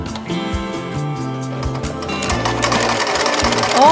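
An NCC CC 1851N semi-industrial sewing machine, fitted with the thin-fabric throat plate and presser foot, stitches thin fabric in a steady, fast mechanical whir with a rhythmic needle clatter that grows slightly louder toward the end.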